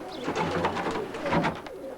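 Pigeons cooing steadily in a home breeding loft, a dense chorus of soft, overlapping coos and murmurs from several birds close by, continuous throughout with no talk.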